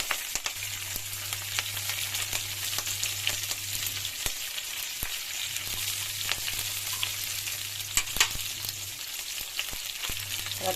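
Mustard seeds, dals and curry leaves spit and crackle in hot oil as a tempering for ragi upma, a steady close sizzle with sharp pops and a low hum running underneath.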